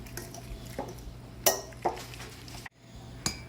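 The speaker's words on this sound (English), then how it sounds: "use a fork to stir the vanilla around in the banana" A fork stirs vanilla into mashed banana in a bowl for muffin batter, giving a few soft, scattered clinks and scrapes of metal on dish at close range, with short quiet gaps between strokes.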